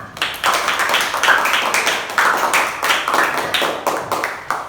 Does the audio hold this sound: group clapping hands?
yes